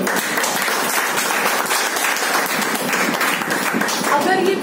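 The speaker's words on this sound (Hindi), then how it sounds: "तालियां होनी चाहिए" A crowd at a health awareness program in Boisar, Palghar breaks into steady, dense applause, a continuous wash of clapping close by with voices mixed underneath.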